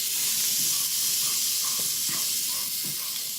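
Pork sears in a hot Instant Pot with a loud, steady broad hiss of sizzling fat and juices, and faint scrapes and taps of a utensil pressing the meat sound underneath.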